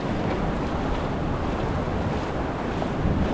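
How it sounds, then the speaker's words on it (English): Steady roar of big ocean waves and wind near a harbor entrance at Sullivans Island, dense and continuous, with no distinct breaks or voices. "Still some pretty big waves there."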